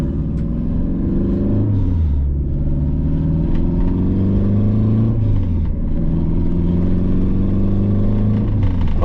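Turbocharged Honda K24 four-cylinder car engine cruising on the road, a steady loud drone heard from inside the cabin, its pitch sliding down and up with gentle shifts in revs.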